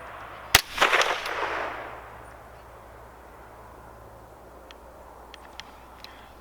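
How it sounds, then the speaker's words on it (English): A single sharp shot from a CZ 512 semi-automatic rifle in .22 Magnum rings out near the start, followed by a brief rumbling echo that fades into quiet outdoor ambience with a few faint clicks. "we're gonna give it a few more tries, 5 more shots to zero it"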